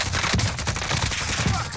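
Rapid bursts of gunfire crackle through a shooter match on the Rebirth map, dense overlapping shots filling the short stretch loudly with no pause.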